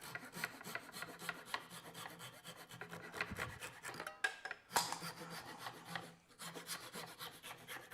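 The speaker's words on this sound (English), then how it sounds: "I'm going to grab my throwaway saw and cut them off." Close rasping strokes of a hand saw trimming wooden tenon ends flush on a Morris chair, an even back-and-forth rhythm broken by a brief pause and a couple of knocks before the sawing resumes, with no talk.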